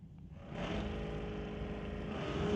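A 1929 Model A and a Corvette launch side by side in a street-legal drag race, engines rising from a low idle into a loud, sustained roar that climbs steadily in pitch.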